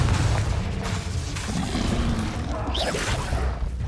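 Magical explosion from the Confringo fire spell in the Hogwarts Legacy video game on PC, a dense rumbling blast with whooshing debris and sustained low roar filling the whole moment amid chaotic combat effects.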